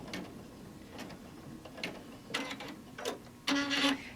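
An embroidery machine stitches a rectangle and inner triangles for a mug wrap in the hoop, giving faint, irregular mechanical ticks and short whirring bursts close by.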